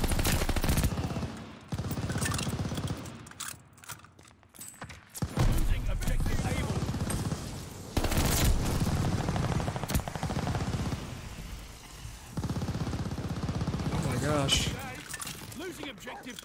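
Gunfire in the video game Call of Duty Vanguard, rapid bursts of shots and impacts spread through the passage, mixed under near-constant excited talking from a player.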